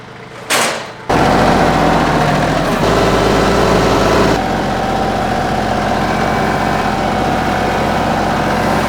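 TYM 2515H tractor engine starts with a short crank burst, then settles into a loud, steady, close-up running drone with a low throb, continuing throughout without speech.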